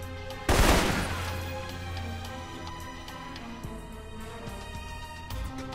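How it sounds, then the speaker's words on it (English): Rifle fire in the Alpha Protocol video game, a sharp loud report near the start followed by lingering echo over a steady game soundscape, with a couple of softer thuds later; individual burst rounds are not clearly separated. "it's a 3-round burst"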